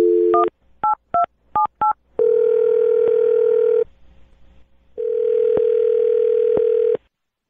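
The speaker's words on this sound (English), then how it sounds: "I'm going to dial his phone number right now" A quick series of telephone keypad tones, five or six short beeps, followed by a long ringback tone that pauses and then sounds again, clear and close.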